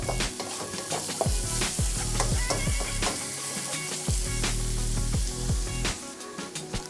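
Food sizzles and fries loudly in a pan before shrimp goes in for a rice dish, a constant crackling hiss broken by frequent clinks and scrapes of stirring utensils.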